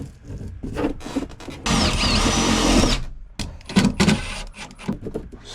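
An impact driver in impact mode drives self-tapping screws through a liner in an electrician's van, a rapid hammering burst of about a second amid scattered clattering and handling noise.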